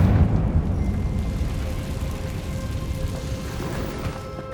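A Confringo blasting spell cast in Hogwarts Legacy, heard as a loud rumbling burst at the start that settles into a sustained crackling, debris-like roar over the following seconds, with no talking.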